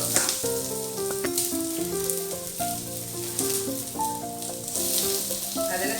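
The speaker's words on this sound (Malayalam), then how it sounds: "ഒരു 2 സ്പൂണോളം സൺഫ്ലവർ ഓയിൽ ഒഴിച്ചിട്ട് നമുക്ക് ഇതിലേക്ക് സബോള ഇട്ട് കൊടുക്കാം." Chopped onion hitting about two spoons of hot sunflower oil in a pan gives a steady crackling sizzle over six seconds, heard alongside melodic background music.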